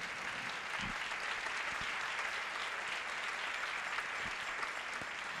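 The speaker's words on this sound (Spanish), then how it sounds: "Un aplauso a Nuestra Señora." Church congregation applauds in honor of Our Lady, a thick, continuous wash of clapping from many people, even in loudness and unbroken by speech, heard from within the crowd.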